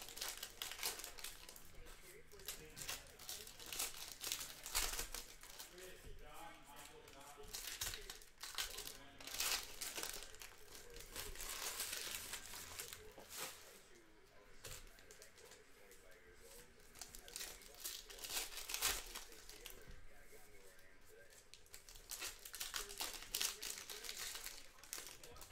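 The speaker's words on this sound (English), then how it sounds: "Ripping open both boxes." Foil wrappers of Panini Revolution basketball card hobby packs crinkle and tear over and over, a close, busy crackling that runs the whole time with someone talking over it.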